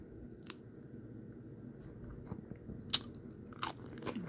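Crisp crunching bites into microwave nachos topped with sour cream, close up and fairly quiet, with a few sharp crunches standing out over soft chewing.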